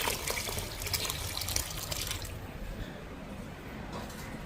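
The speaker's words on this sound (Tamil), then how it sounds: "இது வந்து தேங்காய் பால் சேர்க்க போகிறேன்." Thin coconut milk poured into simmering fenugreek curry in a pot, a continuous liquid splashing and trickling that fades after a couple of seconds into quieter bubbling, with no voices.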